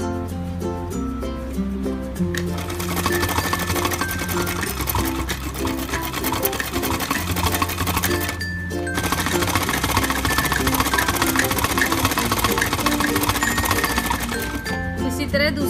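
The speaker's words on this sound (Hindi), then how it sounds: "इसके सहारे सहारे सिलाई लगानी है" A sewing machine stitches a designer kurti, a fast, steady mechanical rattle of the needle running nearly continuously with brief pauses, loud and close.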